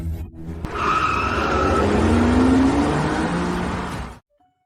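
A car pulls away hard with tires skidding, a loud broadband screech with a rising whine lasting about four seconds before cutting off abruptly.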